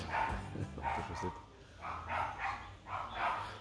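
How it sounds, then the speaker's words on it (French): Dogs fight a short distance away outdoors at a beekeeping site in French Guiana, giving off bursts of growling barks and yips in several short clusters, faint and somewhat distant. "il y a les chiens qui se battent à côté"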